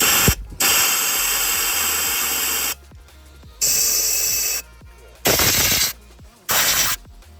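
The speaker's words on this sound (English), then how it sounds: "I'm just going to shoot some compressed air down in the bores just before we start." Compressed air blasted into the open spark-plug holes of a 65,000-mile VW Corrado G60 engine: four loud, close hissing bursts of a few seconds each, with quiet gaps between them.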